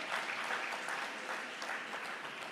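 Church congregation clapping in sustained, dense applause that stays steady and fairly loud throughout, with no voices rising above it.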